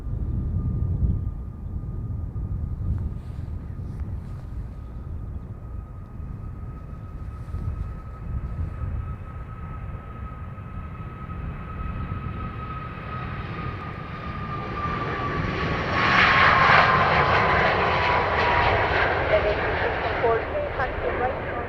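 A heavy airliner departs Dublin Airport, its engine roar building steadily and growing louder toward the end, heard at a distance over a continuous low rumble.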